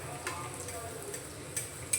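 A chana dal puri fries in hot oil, a steady close sizzle with faint bubbling and a few light clinks from the pan.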